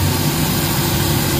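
Suzuki K6A engine idling with the air conditioning on, giving a loud, steady low rumble with a constant drone and vibration throughout, no voices.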